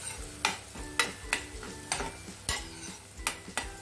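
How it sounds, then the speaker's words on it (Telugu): Chopped onions stirred and fried in oil in a kadai, on top of a tempering of cumin, chana dal and dried red chillies. Close, rhythmic stirring scrapes land about every half second over a steady sizzle. "ఇప్పుడు కట్ చేసుకున్న ఉల్లిపాయ ముక్కలు ఇక్కడ కలపండి."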